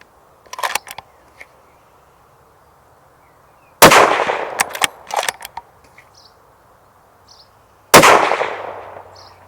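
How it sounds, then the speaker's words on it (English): Single rifle rounds for a Steyr Mannlicher SSG M1 drop through the ejection port into the magazine, a few sharp metallic clicks and clacks spaced seconds apart, close, with quiet between. "whether you can drop single rounds into the port and load the mag easily"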